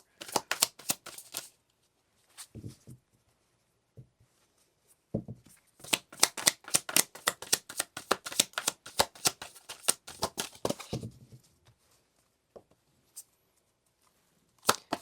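Tarot cards being shuffled at close range, with bursts of rapid riffling and flicking snaps separated by short pauses, the longest flurry dense and continuous, ending in a few isolated card taps.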